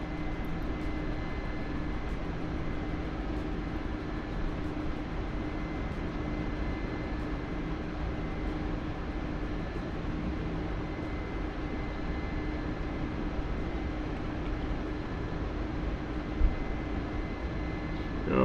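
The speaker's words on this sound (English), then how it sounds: "It's an actual C-130 that does actual C-130 things." C-130 turboprop engines drone in a DCS flight simulator game, a steady, even hum of propellers and engine noise holding at a constant level throughout, with one small click near the end.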